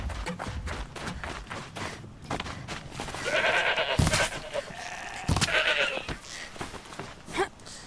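Goat bleats repeatedly in the snowy Frozen Wilds setting of Horizon Zero Dawn, with several wavering cries mid-clip over soft footsteps and game ambience, no talking.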